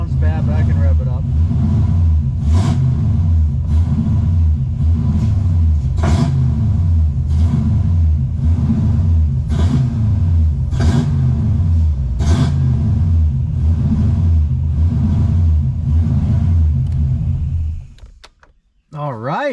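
An LS V8 swapped into a 1992 Nissan 240SX S13 runs roughly and is revved repeatedly, a loud low rumble punctuated by a series of sharp throttle blips, before the engine cuts and the sound drops away near the end.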